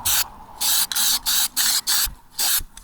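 Aerosol spray paint hisses in about seven short bursts over truck axle parts during a half-million-kilometre service, each blast loud and close with brief gaps between them.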